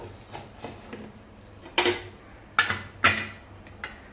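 A lid is fitted onto a pressure cooker in a kitchen: a few sharp metallic clanks and clinks, close and fairly quiet, spaced irregularly among softer taps.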